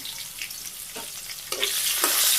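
Vegetables frying in oil in a pan in a Bangladeshi village kitchen, with green chillies added near the end; a loud continuous sizzle that grows more intense near the end, with occasional stirring scrapes and no talking.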